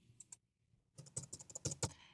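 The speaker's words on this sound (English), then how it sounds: "you can probably hear me typing on the keyboard" Typing on a computer keyboard during spreadsheet work gives a quiet, close run of rapid clicky keystrokes after a brief pause, with no voices.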